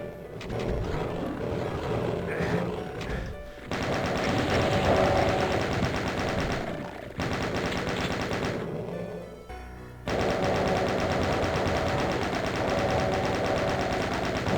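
A chaingunner enemy in a Doom game map fires a chaingun in long, rapid, continuous bursts with brief pauses, loud and dense throughout.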